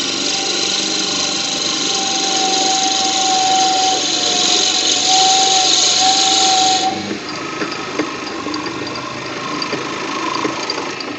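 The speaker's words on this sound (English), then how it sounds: "Let's just put some safety glasses on and start to drill." A power drill bores slowly and shallowly into wood for a segmented woodturning project, a steady mechanical whir lasting several seconds, then the tone drops as the drilling eases off.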